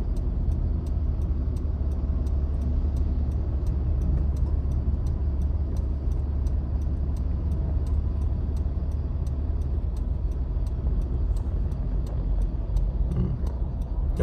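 A vehicle sits stuck in a long traffic jam on the My Thuan 1 bridge in Vietnam. A steady low engine and road rumble runs throughout, with a faint regular ticking like a turn signal and no talk.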